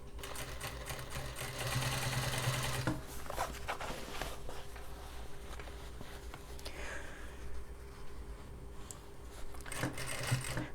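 A sewing machine stitches denim jeans with a rapid, steady mechanical chatter in bursts, pausing briefly before running again.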